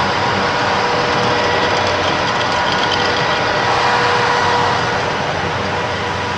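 Textile factory machinery drones steadily on a night shift, a dense, continuous mechanical roar with a low hum, close and unbroken, with no voices.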